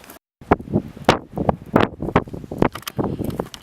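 Strong wind buffets the microphone outdoors at a corral build site, gusting in uneven rumbling bursts with brief near-silent gaps between the blasts.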